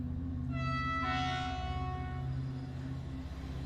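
A train at London's Victoria Station gives a long, bright two-tone horn blast over a steady low rumble of the railway. Together they make a close, sustained sound with no speech.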